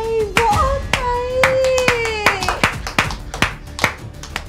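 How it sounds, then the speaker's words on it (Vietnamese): Several sharp, distinct hand claps ring out in an irregular rhythm, close and loud, beneath a voice speaking with exaggerated, sliding intonation. "Vỗ tay, vỗ tay."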